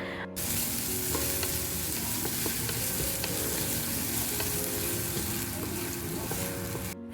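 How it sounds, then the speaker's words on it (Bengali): Ginger garlic paste fries in a very hot frying pan, sizzling loudly and continuously from close by, with a busy spattering hiss throughout and no pauses. "ফ্রাইং প্যানটা বেশ ভালোই গরম হয়ে গেছে আর তার জন্যে এত তাড়াতাড়ির মধ্যে ভাজাও হয়ে গেল"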